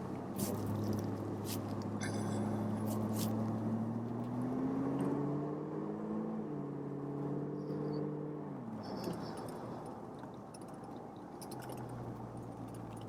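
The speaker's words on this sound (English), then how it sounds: "I hope you enjoy this test drive on this beautiful Mustang" A 1966 Ford Mustang convertible with a 289 V8 drives on a test drive, its engine humming steadily and rising in pitch as it accelerates, then easing off, with a few jangling clicks early on.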